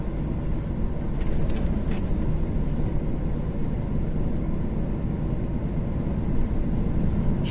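DAF XF 480 truck rolling along a potholed road near Chapecó, a constant low engine and road rumble heard from the cab with a few brief rattles, and no talk.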